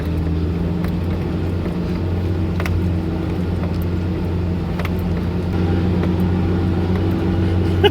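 A Toyota Tacoma pickup's steady engine drone in first gear, with a high whining fan tone held at constant revs, continuous and fairly close, on a forested jeep trail, with no talking.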